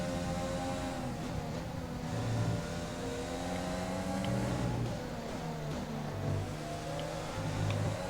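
F1 race cars in the F1 2020 video game accelerate through gears, engine whine rising and dropping in repeated upshifts, moderately loud and continuous.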